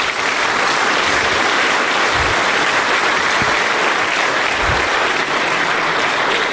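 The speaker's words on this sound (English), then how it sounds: "If you can, everyone give him a huge round of applause." Sustained, dense applause from a conference audience at a DEF CON 26 social engineering village session, welcoming a guest onto the stage, loud and steady throughout with no talk over it.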